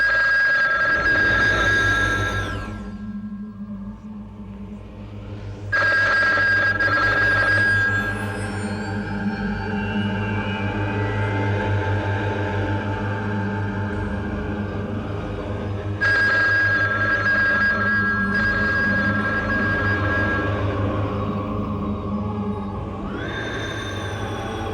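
A telephone rings in a horror drama scene: repeated long electronic ring bursts with short pauses between them, loud and sustained, with no voices.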